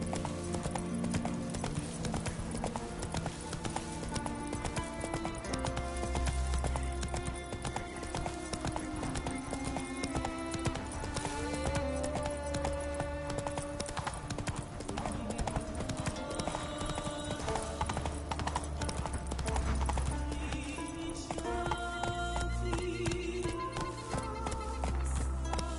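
Roach the horse gallops in The Witcher 3, hooves pounding in a fast steady rhythm throughout, under game music and occasional neighing.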